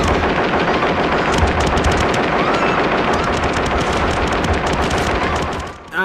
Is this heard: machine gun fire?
yes